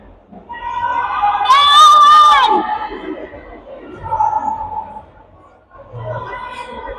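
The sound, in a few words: crowd of women cheering and screaming at basketball game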